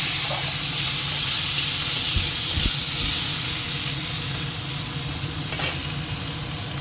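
Panch phoron spices, a dried red chilli and leaves sizzle in hot oil in a home kitchen pan, making a steady, loud frying hiss throughout. There are a few faint clinks of stirring and no speech.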